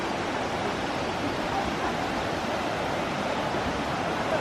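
A river flows in Okutama, Japan, giving a steady, broad rushing of water that stays constant and fairly loud throughout, with no voices.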